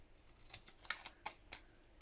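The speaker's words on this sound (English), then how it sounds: "I actually use my scissors now." Scissors snip through paper for a journal in a quick run of about half a dozen crisp, close cuts, faint and quiet with nothing else around.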